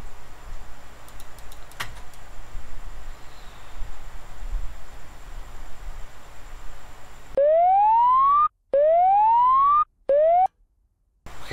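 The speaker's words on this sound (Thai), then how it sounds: "พอเปิดแบตเตอรี่เนี่ยฮอมันจะร้องนะครับว่าเตือนไอ้นั่นไอ้นี่ดับไอ้นู่นนี่ดับดับ" In the DCS OH-58D helicopter simulator, a warning alarm sounds as three loud rising whoops, repeated in quick bursts with brief gaps, over a low cockpit hum, with no talk.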